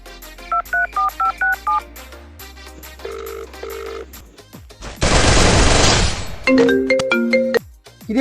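A telephone keypad dials in a comedy drama scene with quick series of electronic beeps, interrupted by a loud burst of noisy rushing sound before more tones follow.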